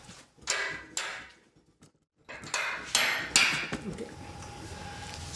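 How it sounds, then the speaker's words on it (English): A big hammer strikes concrete anchors during a tornado shelter installation, sharp metallic blows spaced irregularly with short pauses between them, fairly close and moderately loud. "These are first set with a big hammer"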